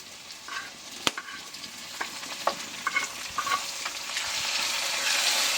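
Onions and tomatoes fry in a pan for a Kuttanad-style fish curry, a steady sizzle with scattered stirring clicks and scrapes, building to a louder, denser hiss toward the end.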